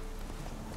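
Horse hooves in The Witcher 3: Wild Hunt, a steady clip-clop of a galloping mount over a dense, busy game soundscape, close and continuous through the short moment.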